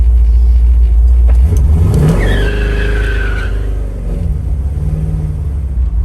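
A 1964 Chevrolet Chevelle's loud engine roars during a burnout while the tires squeal in a rising, drawn-out screech, then the engine keeps rumbling close by.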